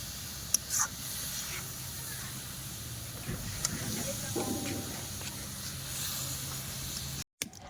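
Hot water poured into a hot wok makes a soft, steady steam hiss with faint clicks and shifting texture, fairly quiet and continuous until a brief dropout near the end.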